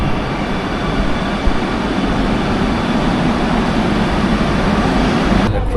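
A Kochi metro train rumbles through an elevated station in a steady, loud, broadband roar that holds constant throughout with no voices.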